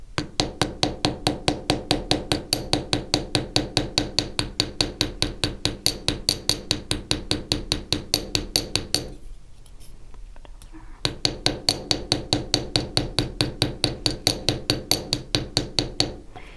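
An embossing hammer edging a stamped metal frame gives a steady, fast run of sharp close metallic taps. The taps fall evenly, roughly three per second, then stop for a brief pause before resuming at the same pace.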